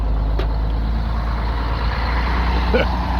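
A loaded truck carrying rocks near a harbor stockyard rumbles with a steady low engine drone close by, with a faint beep and brief squeal toward the end.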